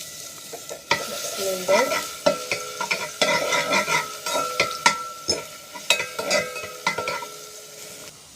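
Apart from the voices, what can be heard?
garlic frying in a pan while being stirred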